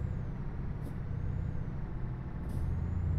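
Truck air brake hiss in Euro Truck Simulator 2, a steady broadband rush of air holding for about three seconds with two short sharp high bursts, no voices over it.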